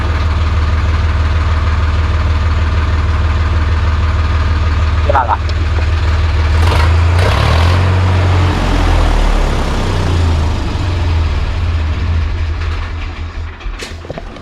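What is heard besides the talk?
tractor engine running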